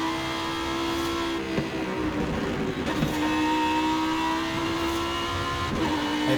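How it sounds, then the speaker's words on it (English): A high-pitched racing V10 engine of an Italian exotic car in Forza Horizon 5 drones steadily with shifting revs and a few gear changes, loud and continuous with no talking. "this has to be the best sounding V10 in this game"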